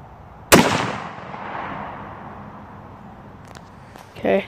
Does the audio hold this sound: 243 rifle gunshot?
yes